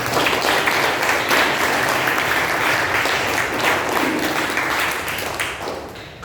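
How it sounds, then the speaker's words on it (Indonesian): An audience at an Indonesian nationalism and state-defence outreach session breaks into steady, dense applause that stays loud for several seconds and then begins to fade. "kita beri aplaus yang meriah"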